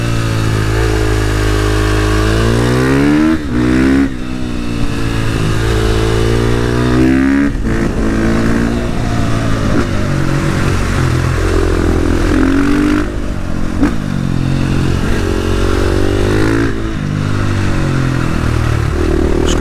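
KTM 450 supermoto motorcycle with an Akrapovic exhaust being ridden, the single-cylinder engine revving up loudly through the gears in repeated rising pulls, with brief drops between shifts, heard up close.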